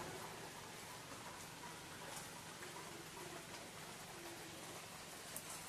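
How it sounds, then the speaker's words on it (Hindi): Steady rain falls in a broad, even hiss, fairly faint and continuous with no voices over it. "अभी बारिश फिर होने लगा है"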